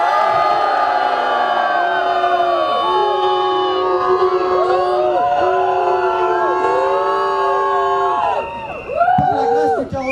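Protest crowd shouting loudly at a demonstration at the Cannes festival, with sustained massed yelling and whooping that swells into overlapping cries, loud and close, with a brief dip near the end before rising again.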